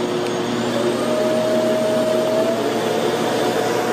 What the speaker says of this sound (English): So there is a power button on the handle to put the vacuum on, and then you have three power level settings.